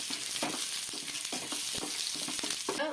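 Onions fry in hot oil for a Kerala-style raw mango pachadi, a steady crackling sizzle broken by repeated utensil stirs and scrapes, with a brighter spatter near the end.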